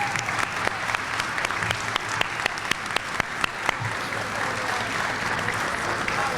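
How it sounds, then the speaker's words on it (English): Applause at a university Athletic Hall of Fame induction ceremony for the 2023 class, a full crowd clapping steadily with distinct sharp claps standing out, staying strong throughout. "Let's keep the applause going one more time for a final round for the entire class"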